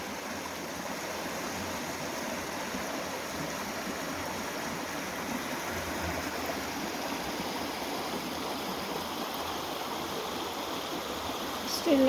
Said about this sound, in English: Plenty of water in the stream now